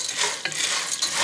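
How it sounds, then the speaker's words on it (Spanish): An onion slice and dry pasta shells fry in oil in a pan for a soup, giving a close, crackling sizzle with brief stirring scrapes. "Aquí una rebanada de cebolla para que se fríe aquí con la pasta."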